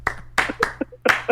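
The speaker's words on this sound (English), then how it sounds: "Slow claps." Four slow, sharp hand claps spaced out over about a second during a comedy workshop podcast, with a voice murmuring between them.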